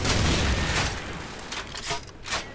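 Loud booming blasts and gunfire in the video game Call of Duty 4: Modern Warfare, a heavy explosion at the start trailing off, then several sharper pops and bursts following in quick succession.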